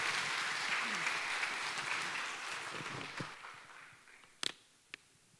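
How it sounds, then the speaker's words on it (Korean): A church youth congregation claps to welcome a pastor to the pulpit: a full round of crowd applause that gradually thins and fades, ending with a few sharp isolated knocks or thumps near the close. "우리 박수로 우리 목사님 맞이하도록 하겠습니다."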